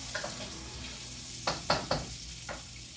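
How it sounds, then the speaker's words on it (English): Bacon frying in a pan while being given a quick stir, a quiet steady sizzle with a few brief scraping strokes of the utensil against the pan. "Quick little stir of the bacon."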